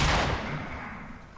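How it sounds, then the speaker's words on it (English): Gunfire in a PS4 online shooter game: a loud, close burst of shots at the start that decays into a rumbling tail, with no talk over it. "Why is he shooting at the sky?"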